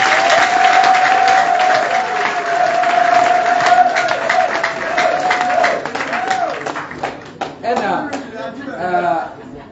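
Audience applause at an inauguration ceremony, loud dense clapping and crowd noise with a sustained tone running under it early on, thinning toward the end as a voice speaks.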